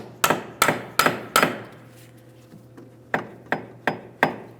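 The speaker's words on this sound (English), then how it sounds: "we'll use a hammer and punch" Eight sharp metallic hammer strikes on a punch against the center of a Ford Edge rear axle, four quick blows, a pause, then four more, ringing close and clear.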